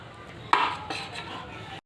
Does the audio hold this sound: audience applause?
no